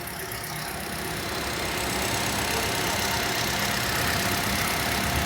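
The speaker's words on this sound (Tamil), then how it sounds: "இன்ஜின்லாம் ஸ்டார்ட் பண்ணி காட்டுறேன் பாருங்கள்." A 2005-model car engine idles steadily with a rough, even rumble, growing slightly louder partway through, with no talking.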